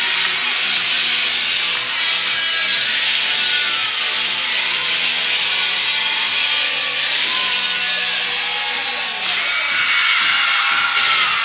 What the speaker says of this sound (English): You can hear them behind us clapping.